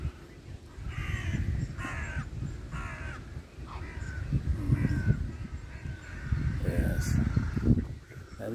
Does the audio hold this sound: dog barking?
no